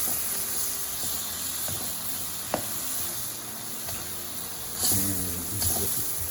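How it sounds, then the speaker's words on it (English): Pork and mushrooms stir-frying in a pan give a steady close sizzle with occasional scraping clicks of a utensil and brief louder hissing bursts near the end. "I'm going to keep stir frying this until we get to the point that I like"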